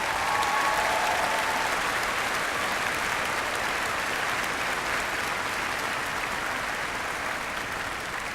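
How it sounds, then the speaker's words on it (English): At a university convocation ceremony, a large audience gives sustained, dense applause for faculty and staff, steady and loud throughout without speech. "let's show a nice round of applause for the faculty and staff represented here"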